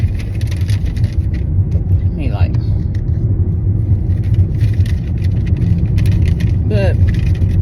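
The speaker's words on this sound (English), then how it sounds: "I'm driving right now." Steady low rumble of a car driving on a road, heard from inside the cabin, with faint whirring and a couple of brief rising tones over the continuous engine and road noise.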